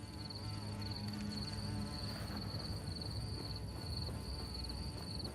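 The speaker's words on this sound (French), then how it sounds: "La guêpe est décidément pénible." Steady insect buzzing from a wasp, a continuous droning whine that holds at an even, moderate level throughout, with no voices.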